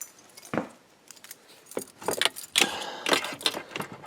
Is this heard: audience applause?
no